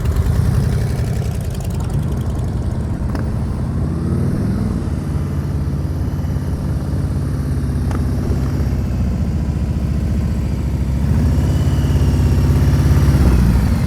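A motorcycle engine idles and revs gently during slow-speed riding practice drills in Washington, a steady low rumble with small throttle swells that stays close and continuous throughout.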